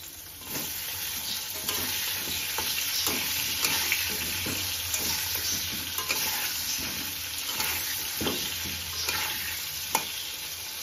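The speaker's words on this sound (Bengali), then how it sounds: "আলুগুলো হালকা করে ভেজে তুলে নেবো" Potatoes sizzle steadily in hot oil, with intermittent scraping and stirring taps against the pan, close up and without talk.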